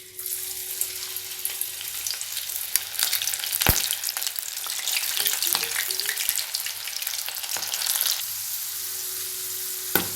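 Masala-coated sweet corn kernels deep frying in hot oil give a steady, crackling sizzle with sharp pops and bursts, close and continuous throughout with no talking.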